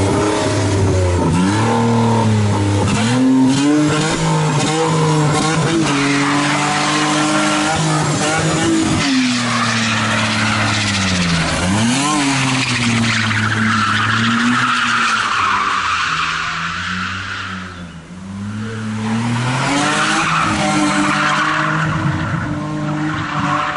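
An old, cheap BMW's engine revs hard and rises and falls in pitch while the tires squeal through skids, loud and continuous, like laps on a track.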